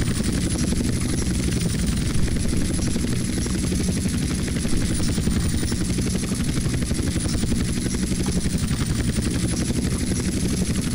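Helicopter in GTA San Andreas, a loud continuous rotor thump and engine drone holding steady and close throughout, with no talk.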